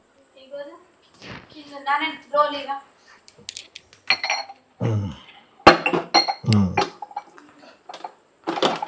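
A bent, dented metal lid is pushed and forced onto a cooking pot while preparing chicken biryani, making sharp clinks and clanks of metal on metal, close and loud, between stretches of talk.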